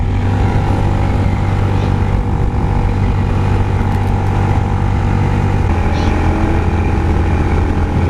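A loud Suzuki motorcycle engine drones steadily and close, a constant throbbing roar that holds for several seconds with a slight shift in pitch partway through.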